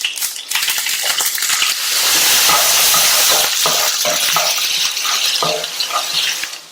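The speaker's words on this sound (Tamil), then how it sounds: "இந்த பேன்ல 1/2 டேபிள் ஸ்பூன் எண்ணெய் சூடாயிடுச்சு. 1/2 டீஸ்பூன் கடுகு, கட் பண்ண ஒரு மீடியம் சைஸ் வெங்காயம் சேர்க்கிறேன்." Onion and mustard seeds fry in half a tablespoon of hot oil in a pan, giving a loud, steady sizzle with intermittent crackles and stirring scrapes and no talk.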